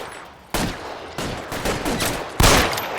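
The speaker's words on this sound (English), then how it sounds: "Lay down some covering fire!" Bursts of covering gunfire in the L.A. Noire video game, several loud, sharp volleys and rapid machine-gun strings following one another over about three seconds, close and dominant with no talk.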